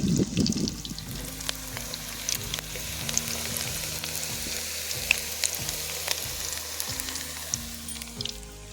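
Semolina pakoras sizzle steadily in hot oil, a dense crackling fry running throughout with occasional louder pops and a low hum underneath, close and continuous with no voices.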